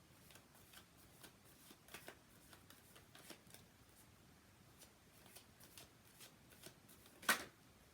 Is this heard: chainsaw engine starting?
no